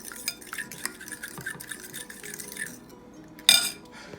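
Raw egg and ramen ingredients stirred in a bowl with a utensil, giving repeated light clinks and scrapes against the bowl, closing with one sharper, louder clatter.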